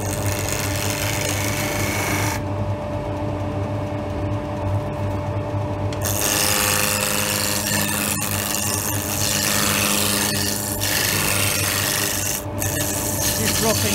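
A hand tool cuts a wooden spindle on a running lathe, giving a continuous close rasping, scraping hiss over the lathe's hum, with changes in texture partway through and a brief sharp scrape near the end.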